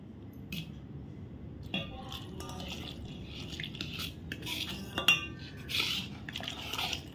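Barnyard millet flour stirred into buttermilk in a pot, soft liquid swishing with light clinks and taps of a spoon against the metal rim, close and quiet, without talk.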